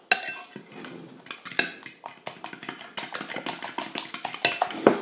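Whisking an onion tart filling of eggs with salt and pepper in a bowl, a utensil clinking rapidly and steadily against the sides, close and fairly loud, no talking.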